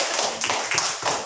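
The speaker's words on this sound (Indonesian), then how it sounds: "Ya, kita beri tepuk tangan." A small group of children in a classroom claps together in a brief, close burst of several distinct claps.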